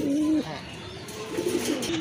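Pigeons at a seller's stall coo in repeated low throaty phrases, one strong call at the start and several more toward the end, with light voices in the background.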